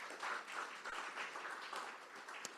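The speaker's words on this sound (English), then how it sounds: "Let's give them a round of applause." Faint, distant applause from an audience at a county budget town hall meeting, a soft wash of clapping held at a steady level with a single sharp clap standing out near the end.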